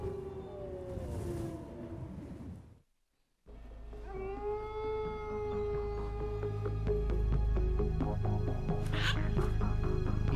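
A wolf howls in Metal Gear Solid 2: long, wavering, harmonic cries rise and hold for several seconds after a brief silence, layered over a steady low game soundtrack rumble.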